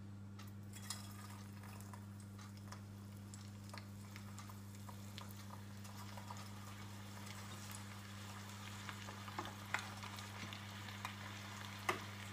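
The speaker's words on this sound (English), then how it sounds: "You're going to whack them into the pan and cook each one or each batch for about 4 minutes until they start to go crispy, crispy brown." Bite-sized chicken pieces fry in a pan until crispy brown, giving a soft continuous sizzle with occasional faint pops and clicks under a steady low hum, quiet and without voices.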